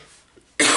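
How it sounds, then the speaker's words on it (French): A single sharp, loud cough bursts out near the end after a quiet moment, heard alone and close. "je vous reprends parce que j'avais besoin de tousser"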